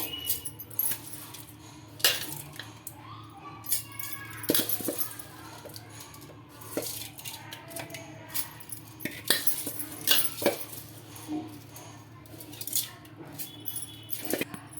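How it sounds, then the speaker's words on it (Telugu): Soaked rice being scooped into a mixer jar in a home kitchen, with near, irregular metallic clinks, scrapes and wet rattles that continue steadily throughout, with no talking. "ఈ నీళ్ళన్నీ వంపేసి మిక్సీకి అయితే గ్రైండ్ చేసుకోవాలి ఇప్పుడు చూడండి వాటర్ అయితే వంపేసుకున్నాను మిక్సీ జార్లోకి అయితే తీసుకుంటున్నానండి"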